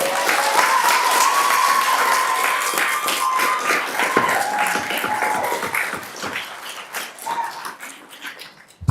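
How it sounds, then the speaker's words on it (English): An audience at a city council meeting applauds loudly, with cheering voices and whoops over the clapping, which thins into scattered claps before a last loud burst. "Please keep the clapping to a minimum so that the speaker has all of their time"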